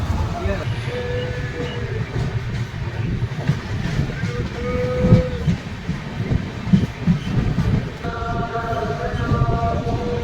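A train runs along the rails after leaving a station on the way to Digha, a close continuous rumble with rattling and faint tonal squeals, while a voice talks over it.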